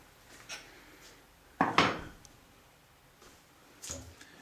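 Clanking metallic knocks and a brief scraping rub as the cutting tool on a metal shaper is lowered and clamped while a bronze bushing is being machined, one loud cluster in the middle and a smaller one near the end.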